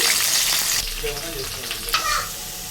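Green chillies and onion frying in oil and ghee in a kadai, a soft hissing sizzle with a few stirring scrapes and a brief clatter near the end, fairly quiet and without speech.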